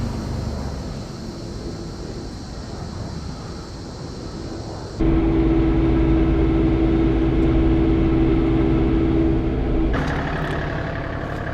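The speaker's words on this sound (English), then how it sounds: "Time to regroup and try the tractor again." A John Deere 3046R compact tractor's diesel engine runs steadily close by, a low droning idle that jumps to a louder, heavier hum partway through, with no talking.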